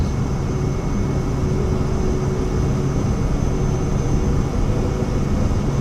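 In Microsoft Flight Simulator, a Cirrus Vision Jet's single jet engine holds near takeoff power at Palm Springs, California, producing a loud, steady, broadband roar with a faint high whine throughout.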